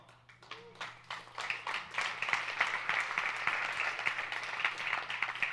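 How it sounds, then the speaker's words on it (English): An audience applauds a preacher during a sermon on Acts, the clapping building from scattered claps into a sustained, moderately loud round with a steady hum underneath. "Oh, thank you for that applause."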